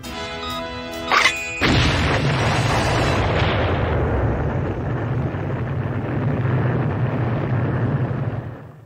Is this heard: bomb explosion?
yes